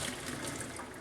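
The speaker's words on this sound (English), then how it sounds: "we are going to dump our potatoes into our strainer" Hot boiled potatoes and their cooking water poured into a strainer, a steady splashing rush of liquid that holds the same level for about a second.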